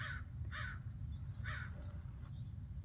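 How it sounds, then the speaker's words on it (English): A crow caws three or four times at an even pace, fairly close and clear, over a steady low background rumble. "You can hear our brother Crow there giving us opinions."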